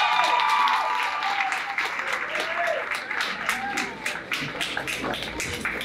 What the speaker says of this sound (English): it is Jolie Wassermer, so you guys give her a round of applause.